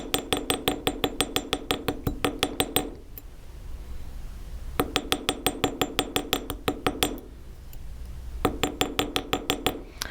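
Rapid light hammer taps on a nail head rivet set in a metal pendant, crisp metallic clinks fired in quick bursts of about a dozen strikes, separated by short pauses, close and clear.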